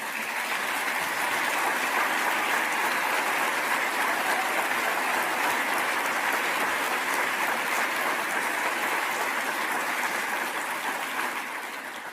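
Sustained applause fills a large conference hall at a Ukraine recovery and development event, a dense, steady wash of clapping from a big audience that holds at full strength for about twelve seconds with no speech over it.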